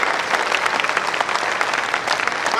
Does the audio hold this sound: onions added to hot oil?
no